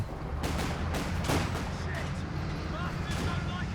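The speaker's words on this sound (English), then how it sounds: "Another excellent activation of tulip rockets from Guard2707." Tulip rocket barrage in Company of Heroes 2, a dense roar of overlapping blasts and rumbling impacts across the battlefield, with a few sharper bursts standing out against constant low booming.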